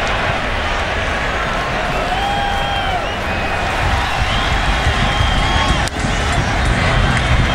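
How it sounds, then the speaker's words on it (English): Large football stadium crowd at a 2007 Brazil versus USA match, a dense continuous roar with rising and falling oohs and aahs and occasional whistles, loud and steady throughout. "the crowd oohing and aahing with every turn"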